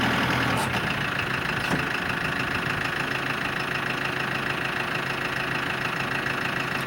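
An antique farm tractor engine idles steadily and loudly while being hitched to a hay wagon, a continuous low rumble with no talking.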